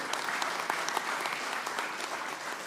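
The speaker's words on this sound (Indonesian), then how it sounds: "Kita berikan tepuk tangan yang meriah buat beliau." Lively crowd applause at an Indonesian political declaration event greets the PDI Perjuangan party chairwoman, many hands clapping briskly and evenly throughout at moderate distance.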